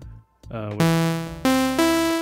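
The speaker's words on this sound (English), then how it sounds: "move this up to a sawtooth wave" A buzzy, bright sawtooth synth in Ableton plays a few sustained notes, each stepping up in pitch after a brief muted start, loud and close.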